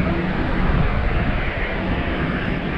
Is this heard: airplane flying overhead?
yes